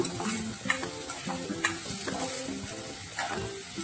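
Onions being stirred in hot oil over a medium flame for a potato and flat-bean vegetable dish, a steady close sizzle with scraping spoon strokes throughout and no talking.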